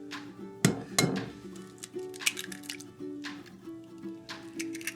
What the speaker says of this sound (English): I'm gonna crack these 2 eggs in there